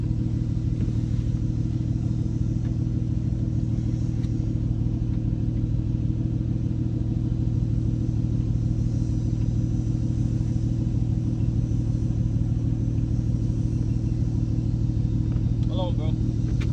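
A BMW 540i engine idles with a steady, deep, low rumble that holds even and close throughout, with no revving and a faint bit of background noise.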